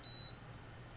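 Short electronic beeps from a newly assembled circuit board powering up, a few high steady tones in quick succession that stop after about half a second, leaving a faint low hum.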